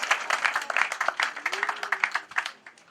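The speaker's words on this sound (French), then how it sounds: "Je crois que cette fois-là, elle mérite un tonnerre d'applaudissements." Audience applause at an official visit ceremony in Bafang, Cameroon, with quick scattered claps from a crowd that stay moderately loud, while a faint voice briefly sounds underneath.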